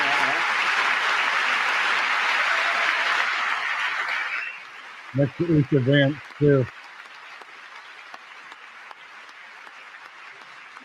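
Audience in the chamber at a State of the Union address applauds steadily for several seconds, then fades; a voice speaks briefly over the tail and afterward.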